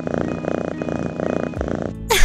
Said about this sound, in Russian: Это мурчание.